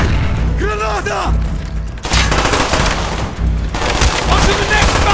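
Heavy gunfire and explosive booms from the video game Black Ops, a dense battle din with bursts of fire; a voice shouts briefly early on, and a loud blast-like surge lands around two seconds and again near four.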